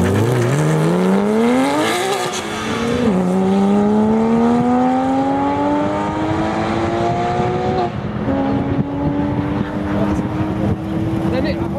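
Sports car engine, a BMW F10 M5 or Porsche 997 GT3 RS with Akrapovic exhaust, revving loud and near on a wet road, pitch climbing through gear shifts with voices talking over it.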